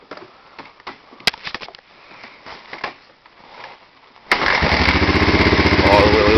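A 1986 Honda ATC 250SX three-wheeler, with no battery and on choke, is kicked: scuffing and clunks of the kick, then the engine catches on the first try and settles into a loud, rapid, steady putter close by.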